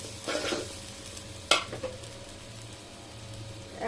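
A spoon stirs khichuri frying in a pan, with a sharp metallic scrape and a few clinks over a soft steady sizzle, close and fairly quiet, no voices.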